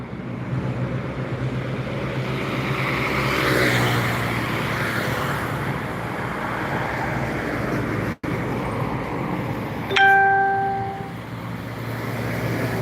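Car passing on a road, a steady broad rumble of engine and tire noise building and fading, with a brief horn-like tonal blip near the end; no talking.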